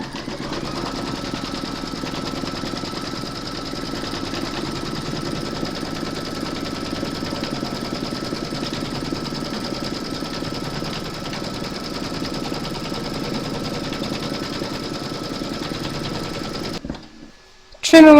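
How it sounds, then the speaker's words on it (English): Embroidery machine stitching the second round of a large mermaid and dolphin appliqué over batting with metallic thread, a continuous, even mechanical hum lasting around seventeen seconds before it abruptly cuts off and a brief handling clatter follows. "Pop your hoop into your machine and stitch round number 2 to secure it."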